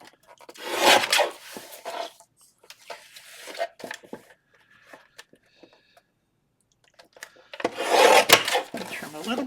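Paper being trimmed for a W-fold garden journal: two bursts of broad rasping cuts near the start and end, with scattered lighter scraping and handling noises between and quiet gaps.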